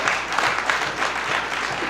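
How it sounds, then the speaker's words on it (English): Audience applause at a party rally selecting a mayoral candidate, a dense, even burst of many hands clapping for about two seconds, fairly loud and close, with no speech over it. "if you want to clap"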